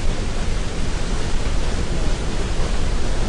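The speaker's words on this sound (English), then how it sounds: "It was the sound of a waterfall." Steady, dense rush of a river waterfall heard alone, a loud continuous roar without breaks or distinct splashes.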